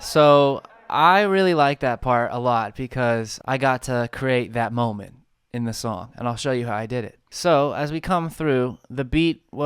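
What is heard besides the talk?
None of the usual background noises is heard.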